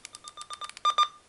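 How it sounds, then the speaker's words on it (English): Key beeps from a Uniden 436 radio scanner as its buttons are pressed, a quick run of short, clear electronic tones at an uneven rhythm, with two slightly longer beeps near the end, heard close and with no voices. "And the very first one is adjust the key beep."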